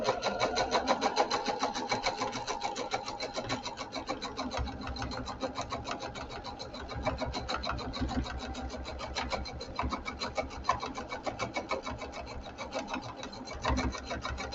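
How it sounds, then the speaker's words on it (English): A sewing machine stitches placemat fabric made from a dish mat and jelly roll strips, running in a steady fast mechanical rattle that continues for the whole stretch, close and fairly quiet, with no talk. "I'll sew that other piece back down"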